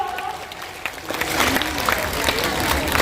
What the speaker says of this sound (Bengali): মেয়েরা হাততালি দিয়ে উৎসাহিত করো